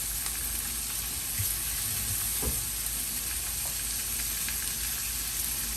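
Sweet potato and cassava sauté in a pot, giving a steady close sizzle with a few soft stirring knocks, continuous and unaccompanied by voices.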